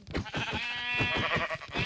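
Repeated sheep bleats from Minecraft livestock, several overlapping calls in quick succession, close and fairly loud with no talking.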